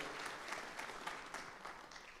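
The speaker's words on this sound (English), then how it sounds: "round of applause for Brady" Guests at a hockey team's annual awards banquet applaud for a player named Brady, a soft, distant patter of clapping from the crowd lasting a couple of seconds.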